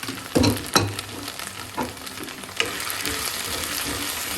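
Okra and potato stir-fry sizzles in a pan while a spoon scrapes and stirs it in a few distinct strokes, then a steady frying hiss continues, close and without voices.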